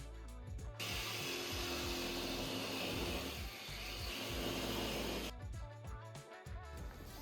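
A jigsaw cuts a hole through the metal roof of a camper van, a loud, close, steady buzzing run that starts after a brief pause and stops near the end, with no talking.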